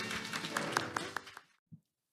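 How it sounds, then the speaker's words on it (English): A short burst of audience clapping for a speaker at a metaverse business forum seminar, several distinct claps over a crowd wash that fades out quickly into silence. "Please give her a warm round of applause."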